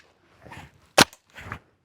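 A VFC SCAR airsoft rifle fires its final BB, giving one sharp, loud crack at close range, with softer clattering handling sounds just before and after.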